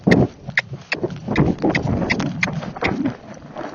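A Missouri Fox Trotter horse canters with a steady run of close, rhythmic hoofbeats over soft ground, along with wind noise on the microphone and no clear speech.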